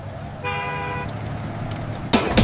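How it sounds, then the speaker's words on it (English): A bus horn sounds a steady, harmonic-rich toot for about half a second over a low vehicle rumble, followed by a burst of louder noise at the end. "The horn on the bus goes beep, beep, beep."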